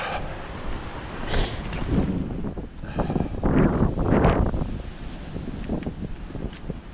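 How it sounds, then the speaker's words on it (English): Strong gusty wind buffets the microphone during a cold five-mile night walk in Maine, rising in broad roaring surges that peak near the middle, with no voices. "You can hear the wind."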